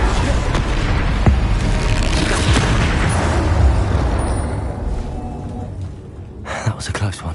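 Bombarda exploding spell cast in Hogwarts Legacy during combat, a loud booming blast with dense crackling debris that rolls on for several seconds before thinning, followed by a few sharper impacts near the end.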